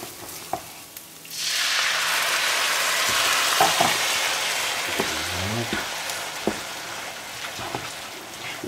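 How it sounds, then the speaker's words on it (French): White wine hits butter-coated risotto rice frying in a pan and a loud, steady sizzle bursts up and holds, with a few light stirring scrapes and clicks. "Je vais maintenant verser mon verre de vin blanc."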